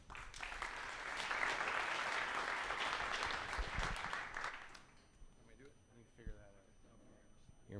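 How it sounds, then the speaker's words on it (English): A crowd applauds a startup presenting at the finale night of an investment summit in Calgary. Full, sustained clapping lasts about five seconds, then dies away as people begin speaking. "Please join me in giving a massive round of applause"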